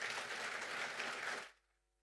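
Audience applause at the opening session of a public health institutes' annual meeting, a dense round of clapping from a large hall that stops abruptly after about a second and a half.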